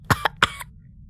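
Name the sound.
reader imitating a fit of coughing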